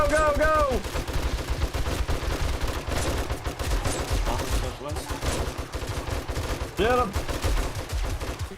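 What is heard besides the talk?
gunfire shooting zombies in video game 7 Days to Die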